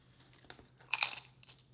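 A crunchy delivered beef food item is bitten into up close, giving one loud crisp crunch followed by a few fainter chewing crackles, with no talking.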